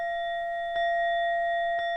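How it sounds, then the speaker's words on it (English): Two clear meditation timer bell strikes about a second apart, ringing over a sustained, shimmering bell tone that hangs throughout. "we'll get the bell options for the ending bell"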